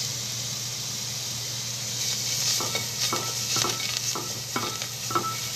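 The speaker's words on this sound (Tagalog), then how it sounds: "ug init na kana ug init na ang ang olive oil ibutang nimo ang ahos" Garlic sizzling in hot olive oil, a soft steady hiss that swells midway, with a series of light spoon or spatula stirring taps against the pan.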